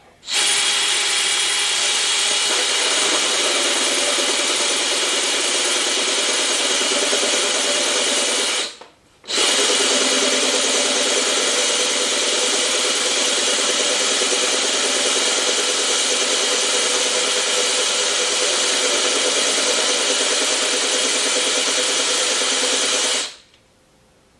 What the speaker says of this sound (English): So start drilling away.